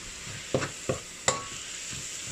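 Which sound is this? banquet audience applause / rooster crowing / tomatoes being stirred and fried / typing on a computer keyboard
tomatoes being stirred and fried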